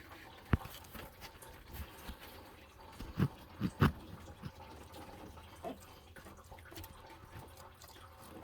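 Coolant draining from a radiator hose on a 2014 Toyota Corolla S during a thermostat replacement, a quiet steady trickle with scattered drips and a few soft knocks, fairly faint and without talk.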